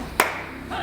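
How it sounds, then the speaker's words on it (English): A single sharp hand clap rings out near the start, short and close, then fades into a quiet room tone. "Give me a clap down."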